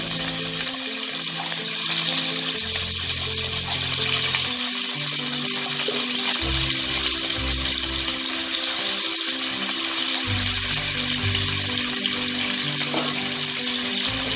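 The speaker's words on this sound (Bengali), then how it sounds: "এই তেলে আমি সরু সরু লম্বা লম্বা করে তাকে আলু কেটে নিয়েছি। সেই আলুগুলোকে ছেড়ে দেব।" Thin, long strips of cut potato fry in oil in a wok, making a dense, constant hiss and sizzle close by, with low bubbling and occasional stirring beneath.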